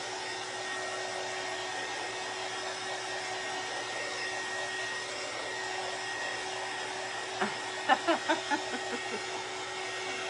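A hair dryer blows a steady, even whir while drying the nooks and crevices of a thrift-store plastic frame, with a few faint voice sounds briefly over the hum.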